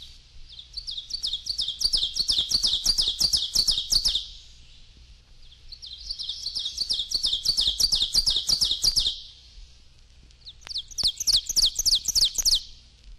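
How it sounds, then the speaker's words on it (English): Ovenbird song: three loud, clear bouts of rapid repeated ringing phrases that build in intensity, separated by short pauses, heard alone with no talking. "Oven Bird."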